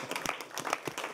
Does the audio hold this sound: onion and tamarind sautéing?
no